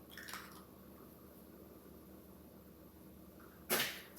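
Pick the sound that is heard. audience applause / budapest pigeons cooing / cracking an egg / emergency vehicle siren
cracking an egg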